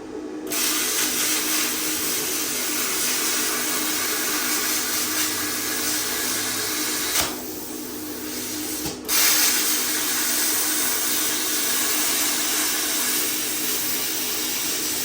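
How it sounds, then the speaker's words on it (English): A plasma cutter slices through car frame metal during a chassis swap, a loud, close, continuous hiss and roar that cuts out briefly midway, then resumes steadily with no talking. "I figured if any time was a good time to try the plasma, it's now."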